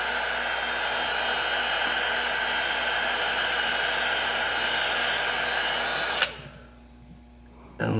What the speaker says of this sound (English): if you have a hair dryer or a heat gun, this is the best part.